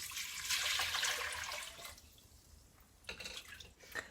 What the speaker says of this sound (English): And I'm going to add to that a litre of water.